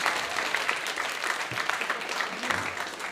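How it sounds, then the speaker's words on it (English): An audience at a pub game-show night bursts into a dense round of applause, steady and sustained throughout, with a few cheers mixed in. "Round of applause for Bazza, so close, unlucky."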